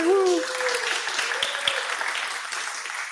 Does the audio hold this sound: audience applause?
yes